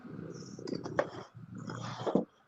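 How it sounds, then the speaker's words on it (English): A cat purrs close to the microphone in low, rumbling bursts that swell and fade with its breathing, soft and alone with no talking. "with the sounds of the kitty cat"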